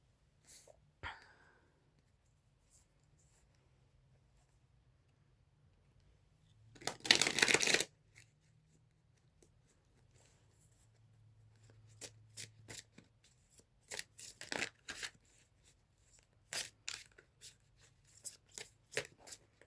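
Fortune cards are shuffled in short riffling bursts, one louder flurry followed by a run of quieter flicks and taps, close by in an otherwise quiet room with no voices.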